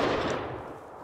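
A loud, close burst of gunfire from the video game Rust opens the clip and then decays quickly into a rumbling tail.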